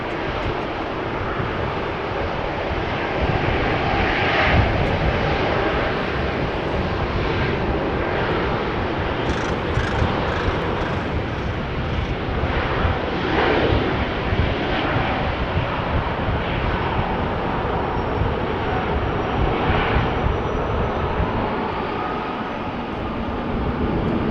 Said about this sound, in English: Biz jets landing or departing.